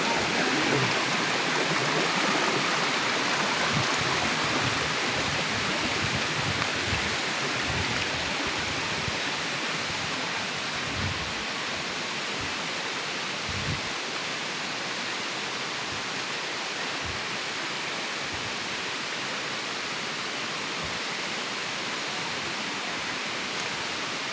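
A babbling stream flows continuously with a dense, steady rush of water, close and fairly loud, with occasional low splashes and no talking throughout.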